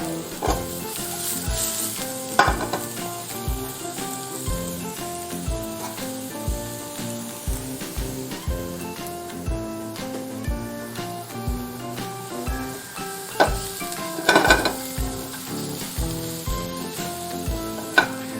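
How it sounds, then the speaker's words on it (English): Diced shallots sizzle steadily in a hot pan, a dense continuous crackle with occasional louder pops and stirring scrapes, close and loud with no voices. "First, we'll start with some nice diced shallot. And we're just gonna soften that up in the pan just a little bit."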